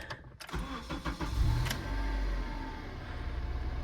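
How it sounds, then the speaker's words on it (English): A Honda CR-V engine cranks briefly and catches, then settles into a steady idle, heard up close with no talking. "Now, let's fire it back up."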